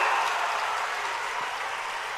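A large crowd at a Kumbh Mela speech claps in sustained, dense applause, loud and continuous throughout.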